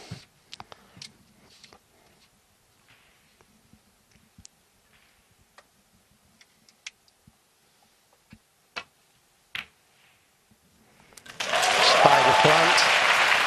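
A snooker crowd at the China Open breaks into loud, dense applause after a potted red, following a long quiet stretch of sparse clicks and small sounds in the arena.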